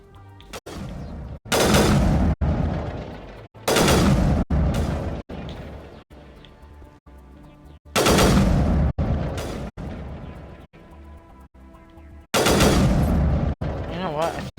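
Sniper rifle fire in Mass Effect, heavy booming shots striking in separate bursts with ringing tails, loud and close, with gaps of quieter game ambience between them.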